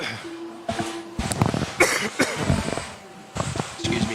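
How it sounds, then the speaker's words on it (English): A man coughs several times in short bursts, close and fairly loud, with some talk in between, during an RC car racing practice session at an indoor hobby track. "getting over a little bit of a cough here the last couple of weeks"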